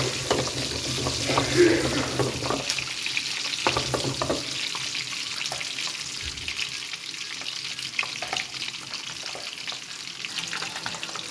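Eggs fry in a pan for a spinach and egg curry, giving a loud, continuous close-up sizzle broken by shuffling and scraping as the pan is tossed and shaken.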